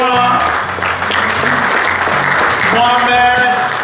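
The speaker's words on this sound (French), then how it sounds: "Et je voudrais que vous vous levez pour applaudir Sa Majesté, le roi" A standing audience at an event applauds for the king, with steady, dense clapping filling the space while music and a voice carry on over it.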